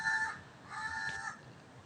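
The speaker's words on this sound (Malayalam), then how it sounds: "സൗണ്ട് കേട്ടോ. ഒരു കാക്ക എന്നാണ് മലയാളത്തിൽ പറയുന്നത്." A crow caws in two short harsh bursts, fairly clear and close, over a quiet background.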